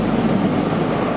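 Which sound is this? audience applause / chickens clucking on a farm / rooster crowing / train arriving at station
train arriving at station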